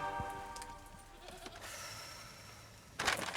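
A goat bleats indoors in a house, giving a few short, faint calls amid quiet room noise, followed by a louder rustle at the end.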